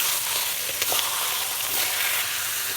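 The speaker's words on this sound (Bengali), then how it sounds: "আমি এবার মাছের মাথাগুলো ভেজে নেব" Fish heads sizzle and spit in hot oil in a home kitchen, a continuous close crackling hiss with a few sharper pops, no voices.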